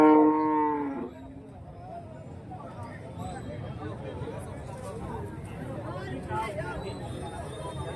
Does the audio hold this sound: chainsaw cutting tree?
no